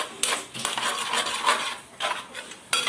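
Curry ingredients, including tomato, being stirred in a pan over low heat, with repeated scraping and clinking of a utensil against the pan over a faint sizzle, no talking.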